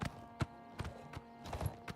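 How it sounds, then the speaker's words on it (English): Horse hooves clip-clop as a rider gallops in a fantasy video game, with quiet, evenly spaced hoofbeats falling in a steady rhythm and no one speaking. "I just ride my horse past them"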